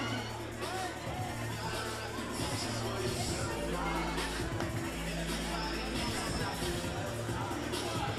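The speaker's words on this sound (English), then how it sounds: "The crowd's very happy" Boxing crowd at a club bout roaring and cheering for a fighter, a dense, steady wash of voices and hubbub filling the arena with no break.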